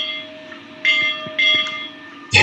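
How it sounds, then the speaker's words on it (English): A stock exchange closing bell rings in two sustained bursts over a steady low hum, followed by a sharp clang at the end. "Here's the closing bell."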